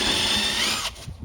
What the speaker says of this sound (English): We're gonna drill into the side of this trim right here